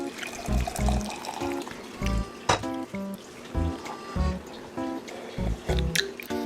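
Brewed coffee poured into a cup, with gurgling, dripping and sloshing liquid sounds in uneven pulses, close and fairly loud, with no speech.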